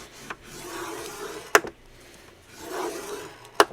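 Paper being scored at one inch for an envelope folio: a soft scraping rub along a scoring board, punctuated by two or three sharp clicks of the blade, close and quiet with no talk.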